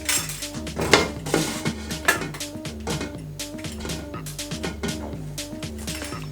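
A pizza cutter rolls and scrapes across a stovetop pizza in a frying pan, giving repeated metallic clinks and scrapes against the pan at a close, steady working pace.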